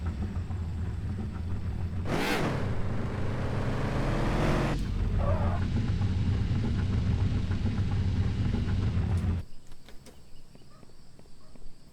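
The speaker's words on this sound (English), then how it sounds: "I love the sound of this car." A car engine in Car For Sale Simulator 2023 rumbles steadily and loud, with two sharp revving surges, then cuts off near the end, leaving faint clicks.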